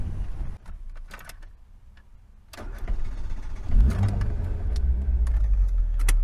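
A Tofaş Doğan SLX car is cranked and its engine catches, then settles into a low, steady running rumble that grows louder close by, with some clicks and knocks before it starts.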